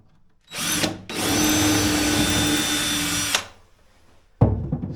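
A power drill whirs loudly through a sailboat's cabin top, a short burst then a sustained run of about two seconds, up close, ending with a sharp clunk.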